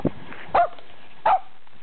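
A Papillon dog gives two sharp barks about a second apart, fairly close, with a short yelp at the start and quiet between.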